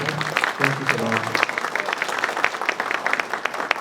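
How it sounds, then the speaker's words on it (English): Audience applause at a Fresno public meeting, moderate and scattered, with a voice speaking over the start of it and individual claps standing out as it continues. "So if we could just give him a round of applause so he can"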